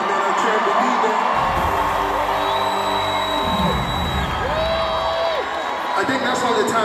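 A live concert crowd at Mahindra Fusion Fest 2025 during a set cheers and whoops in a steady, loud roar, with stray shouts and some musical tones underneath.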